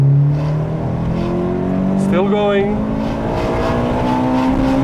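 Toyota Corolla T Sport engine revving up through second gear, a steady rising drone climbing in pitch toward the red line, loud and close, with a brief voice over it.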